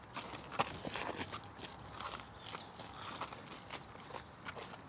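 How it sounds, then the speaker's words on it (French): An extremely nervous horse walks close by, hooves clip-clopping in an irregular, restless rhythm over about five seconds, fairly faint, with no talking. "C'est un cheval extrêmement nerveux qui vous marche dessus."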